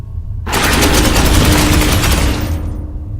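A loud, continuous automatic-weapon burst in the sci-fi video game Space Hulk Ascension rattles for about two seconds, rapid and close, then cuts off into quiet.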